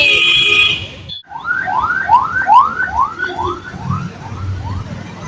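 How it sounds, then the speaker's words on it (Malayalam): An ambulance siren sweeps past on a street, a fast repeating wail of rising and falling tones, loud at first and fading as it moves away, with a brief lull just before it starts. "ഒരു ആംബുലൻസ് പോയി ഗൈസ്."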